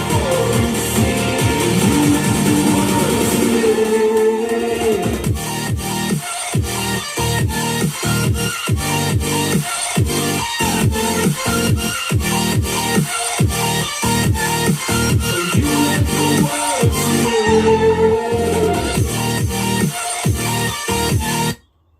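Song with vocals and full instrumentation playing loudly through a B&O Beosound Explore portable Bluetooth speaker, continuous and dense with a steady beat, ending abruptly.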